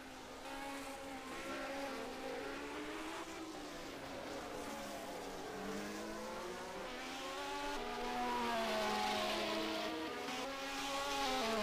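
1974 Formula 1 race cars roar through a racing video game: a pack of high-pitched engines drones steadily, the pitch rising and falling as cars accelerate and pass, and the sound swells louder toward the end.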